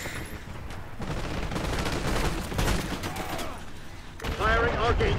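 Rapid automatic gunfire from a semi-automatic weapon in Call of Duty Black Ops 6, a dense rattling burst running throughout, mixed with game effects and a voice talking over it.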